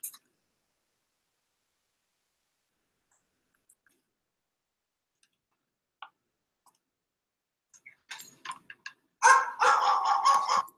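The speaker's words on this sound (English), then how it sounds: "I always have to play that long enough so you can hear the dog bark" A dog in a played-back video gives a short burst of quick barks at the very end, after a long near-silent stretch with only scattered faint clicks.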